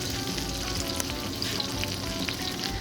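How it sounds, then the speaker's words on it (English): A delicate paneer patty sizzles in butter in a hot pan, making a dense, even, continuous crackle close by that holds steady throughout, with a few faint ticks on top and no speech. "So we're gonna put in the paneer patty just carefully because it's delicate."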